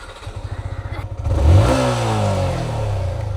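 A motorcycle engine putters at a close idle, then revs up sharply and holds a loud, steady high drone, with no voices.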